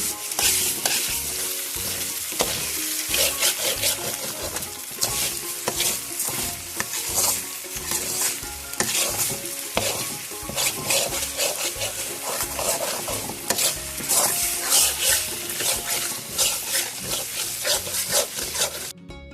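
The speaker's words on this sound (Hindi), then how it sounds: "चीनी ऐड करके तो सही मिक्स करना, गठिया ना बने चीनी से।" Suji halwa fries in a pan as sugar is stirred in, giving a continuous close sizzle with constant scraping and squelching of the spoon through the thick mixture, alone without talk.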